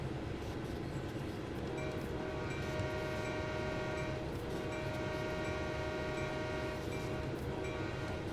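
A big American freight train in Train Sim World 4 rumbles steadily through Toronto, with a continuous low engine drone and a faint tonal hum, moderately quiet and unbroken.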